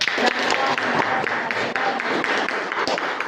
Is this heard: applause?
yes